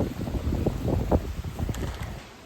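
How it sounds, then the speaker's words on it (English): Wind gusting beside the Leeds Liverpool canal, a steady broadband rush with low rumbling buffets against the microphone, fairly loud and continuous, easing slightly toward the end, with no voices. "Sorry about the wind."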